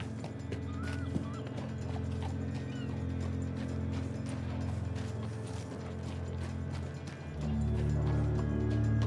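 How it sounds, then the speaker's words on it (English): Horses clip-clop through a town in the Red Dead Redemption 2 game, with a steady scatter of hoof clops and tack rattles at moderate distance over continuous low ambient rumble, occasional faint bird calls mixed in. "Got horses in town, don't we?"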